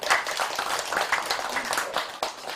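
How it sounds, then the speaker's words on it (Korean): Scattered, fairly quiet clapping from a congregation at a Buddhist memorial service in a temple, with irregular individual claps standing out. "박수 한번 쳐주시죠."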